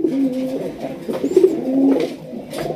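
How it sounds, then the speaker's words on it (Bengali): Pigeons at a farm coo in repeated low, throaty rolling calls, with several birds overlapping close by and no talking. "কবুতর আছে মানে সব কবুতরই ডাকানোর"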